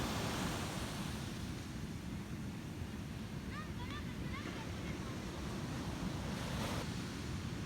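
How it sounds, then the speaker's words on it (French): Soft ocean surf washes continuously at a distance, with a few brief bird chirps midway. "Ma maman adore regarder les vagues."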